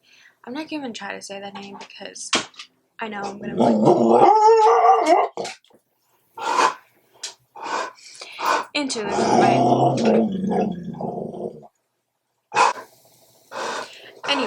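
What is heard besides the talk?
dog barking at another dog outside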